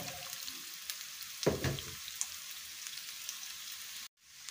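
Onion and garlic frying in a pan, a quiet steady sizzle with a short louder burst of stirring partway through before the sound cuts off near the end.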